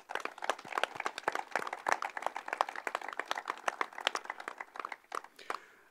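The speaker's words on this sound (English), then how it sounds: "Please join me once more in giving these dedicated staff and board members a round of applause." A small group applauds at an outdoor funding announcement, distinct individual hand claps in a fast, uneven rhythm, moderately close and sustained for about six seconds before tapering off.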